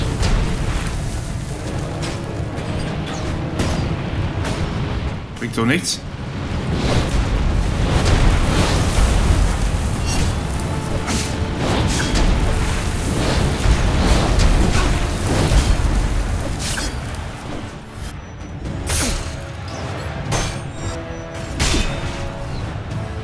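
Siege battle explosions in Ryse: Son of Rome, continuous rumbling booms and crashes with repeated sharp blasts over a dense battle din, while someone speaks briefly.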